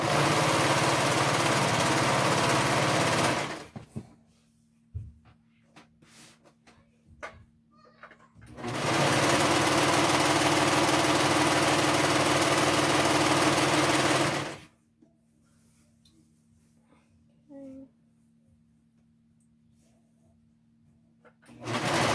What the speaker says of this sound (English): and then I'm gonna sew it all down